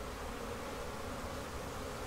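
Honey bees buzzing at a crowded hive, a steady, dense drone that holds even and unbroken throughout with no voices.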